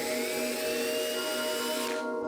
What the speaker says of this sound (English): I'm gonna pre-drill some holes